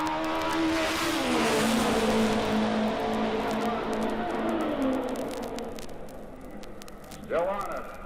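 A race car roars along the straightaway at the 1963 Indianapolis 500, its engine note a loud sustained whine that gradually fades into the distance, with a commentator talking over it and a brief burst near the end.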